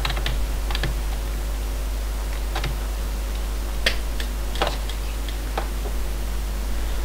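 Keys clatter on a computer keyboard in short irregular bursts over a steady electrical hum, fairly close and with no voices.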